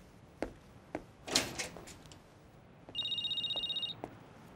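A telephone gives one short burst of high electronic trilling ringing, preceded by a few soft knocks and a rustle in a quiet room.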